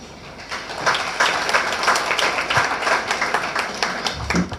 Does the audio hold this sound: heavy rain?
no